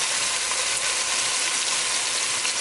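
Chunky tomatoes tumble into a hot frying pan for ratatouille, giving a steady, loud, close sizzle and frying hiss that holds evenly throughout, with no talking.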